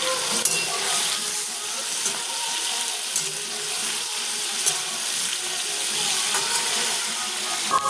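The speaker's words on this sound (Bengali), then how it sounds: "পনিরটা ভাজা হচ্ছে" Paneer pieces fry lightly in white oil in a kadai, giving a steady hissing sizzle with occasional small pops and crackles, close and continuous.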